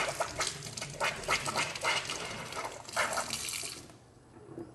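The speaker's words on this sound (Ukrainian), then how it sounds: "прямо при вас вмикаємо воду з-під крана" Tap water in the Philippines runs from a kitchen faucet into a small container, a close splashing stream with gurgling bursts that stops abruptly near the end, with no speech.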